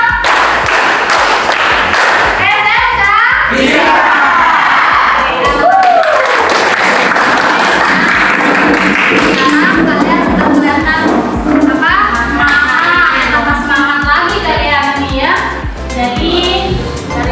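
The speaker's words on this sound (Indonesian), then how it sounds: "Tepuk 1, tepuk 2, tepuk 3, tepuk 4, tepuk 5" Students in a vocational high school classroom clap along in a counted clap routine, mixing rhythmic hand claps with chanting voices and lively group chatter.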